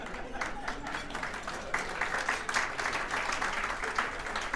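Applause from an event audience, a steady wash of many hands clapping at moderate level throughout, fairly distant and without breaks.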